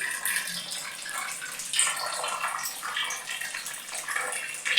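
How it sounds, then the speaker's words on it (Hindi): Water gushes steadily from an opened tap, a hissing, splashing flow that rises and dips slightly in force, close and alone with no voices. "ये टूटी खुली गई है"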